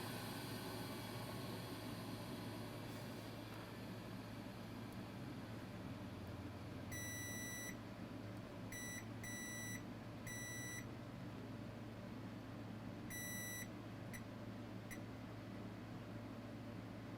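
A multimeter set to diode mode, used to test a failed Crucial SSD, gives a series of short high electronic beeps in irregular bursts over a steady faint background hum.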